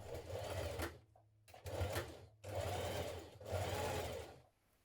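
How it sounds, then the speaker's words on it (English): A sewing machine topstitches around the pocket of a shirtdress in several short close bursts separated by brief pauses, fairly quiet overall. "now we're going to top stitch around our pocket"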